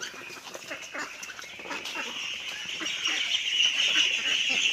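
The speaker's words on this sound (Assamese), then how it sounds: "মোৰ এইবিলাক সৰু হাঁহবিলাক" Small ducklings with an eye ailment quack and honk in a cluster, with overlapping nasal calls nearby. The calls grow louder and more continuous toward the end.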